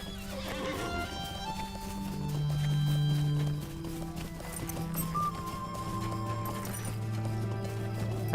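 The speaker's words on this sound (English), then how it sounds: "Let me get on my horse and chase it down." Horse hooves clip-clopping at a steady run in the fantasy online game Lord of the Rings Online, with neighs and a bright orchestral music bed playing over them throughout.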